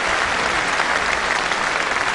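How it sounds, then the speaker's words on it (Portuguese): Steady, dense applause from a home crowd fills the arena after a gymnast's routine at the 2008 World Cup finals in Tianjin, sustained and even throughout with no talk over it. "Porque a torcida aplaude,"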